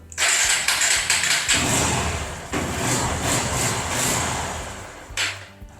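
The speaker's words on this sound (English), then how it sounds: "Step four is to start her up using the electric start, but with no throttle." A Honda XR150L motorcycle cranks on its electric starter with the choke on and no throttle, then catches and runs at a loud, slightly rough idle close by, with a brief blip near the end.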